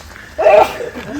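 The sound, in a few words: sneeze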